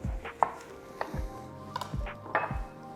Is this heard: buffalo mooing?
no